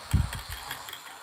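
Gears whir and click in a small HO scale model locomotive under test, a brief close mechanical burst at the start that fades into a faint steady running hum.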